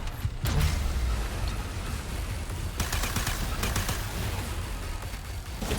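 Rapid gunfire from shooting from the hip in the video game Arcadegeddon: dense, continuous bursts of shots with mechanical clatter, loud and sustained for the whole stretch, with no voices.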